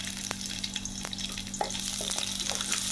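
Chopped onion fries in oil, a close, continuous crackling sizzle marked by occasional clicks and stirring scrapes, with an electrical hum beneath and no voices.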